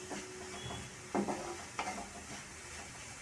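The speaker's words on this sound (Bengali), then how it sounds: "পেঁয়াজটা আমি একটু লাল করে ভেজে নেব।" Onions frying in oil in a pan give a soft, continuous sizzle, broken by a couple of brief scraping stirs of a spatula.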